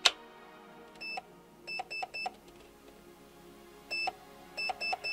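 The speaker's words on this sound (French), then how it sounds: "3 bips courts, 1 bip long." Short electronic beeps from an ETU PERUN programmable trigger unit in an airsoft P90: a single beep, a quick group of three, then another single and a final triple cluster, clear and close with no talking.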